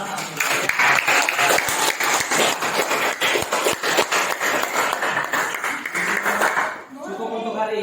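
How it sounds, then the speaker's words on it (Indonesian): A classroom of tenth-grade multimedia students claps together, a loud sustained round of many hands that fades out near the end as a voice starts speaking. "Boleh tepuk tangan."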